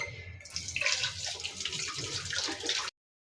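Water runs steadily from a tap near dishes set down for washing, a close, continuous splashing gush that lasts about two and a half seconds before cutting off, with no talk.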